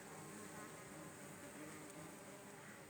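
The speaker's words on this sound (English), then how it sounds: "wasps, butterflies, flies, mosquitoes. I'm sure you can hear the buzzing." Yellow jackets, wasps and flies swarm around a freshly dug artesian well in open country, making a faint continuous buzzing drone with no voices.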